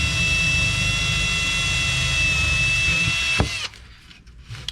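A power drill with a dull bit drilling scrap wood runs at a steady high whine, then cuts off abruptly, leaving a brief rattle and quieter room noise.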